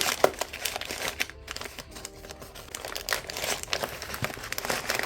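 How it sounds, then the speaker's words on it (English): Paper mailing envelope crinkles and rustles as an item is pushed inside, steady close handling noises with small taps and crunches, no voices. "I am not positive this is gonna fit in this envelope."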